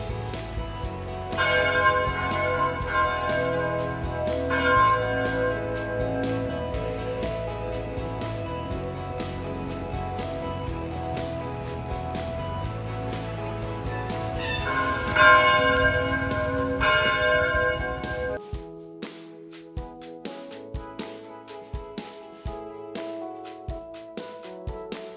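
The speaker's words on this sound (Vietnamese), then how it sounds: "vừa rồi là tiếng chuông điểm lúc 6 giờ" A Catholic church bell tolls the six o'clock hour near a seaside apartment area. A dense, resonant peal rings continuously with overlapping strikes, then breaks into slower, separate tolls that decay and ring out toward the end.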